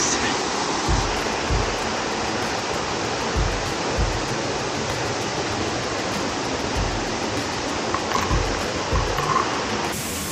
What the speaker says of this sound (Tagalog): Mini falls na yan.